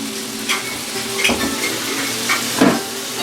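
Roux for orange chicken sauce cooks in a pan with a steady close sizzle, broken by a few louder scrapes and clinks of stirring.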